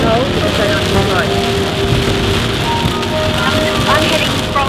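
Heavy rain drums steadily on a car while driving from Melbourne on a potholed back route, a dense continuous wash with tonal traffic or engine sounds mixed in and some faint voice underneath.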